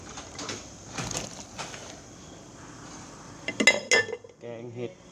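Termite mushrooms tipped into a cooking pot for a Thai mushroom curry, giving a few clinks and knocks of pot and utensils close by, with soft rustling between them.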